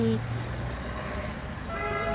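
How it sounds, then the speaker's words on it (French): Short car horn toots sound at the start and again near the end over steady traffic rumble at a yellow vest protest, with people talking in the background. "Et quand on les laisse passer tout le temps, les gens ils klaxonnent, ils sont contents."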